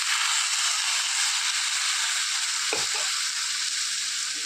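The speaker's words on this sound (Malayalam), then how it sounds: "എല്ലാം കൂടെ നന്നായിട്ടൊന്ന് ഇളക്കി യോജിപ്പിക്കുക" Jackfruit erissery curry, a Kerala dish with ground coconut paste mixed in, is stirred in a hot pan, giving a steady close sizzle and scraping with a brief louder clatter near the end; no one speaks.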